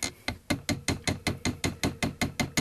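A hammer forges wire links on an anvil in a steady series of about a dozen sharp metallic strikes. Each blow rings briefly, and the strikes come close together at an even pace.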